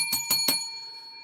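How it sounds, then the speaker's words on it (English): A bell rung three times in quick succession, with bright ringing strikes that leave a long metallic tone fading out. "Let's ring the bell."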